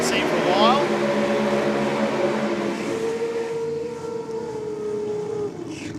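A supercharged Hemi in a Holden Ute doing a drag-racing burnout, a loud harmonic engine wail that rises briefly and then slides down in pitch, holding steady before easing off.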